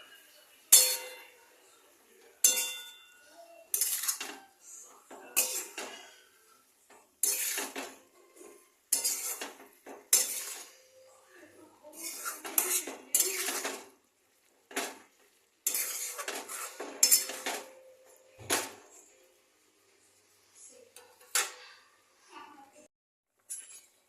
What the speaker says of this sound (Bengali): এবার এটা আমি ভালো করে নাড়ব।